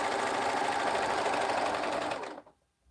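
A sewing machine runs steadily stitching the cuff of a romper, a continuous whirring drone that stops abruptly near the end.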